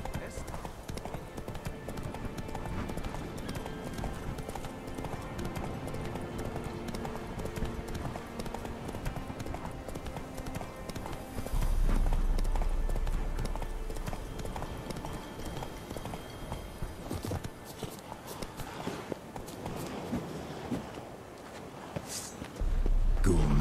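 Roach the horse moves at a quick pace in The Witcher 3 video game, with a steady run of hoof clip-clops under ongoing game sounds and a voice speaking.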